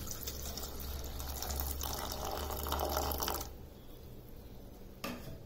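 Tamarind water pours into a pot with tomato and curry leaves for rasam, a steady close splashing stream for about three seconds, then quieter liquid sounds and a light clink of the pot.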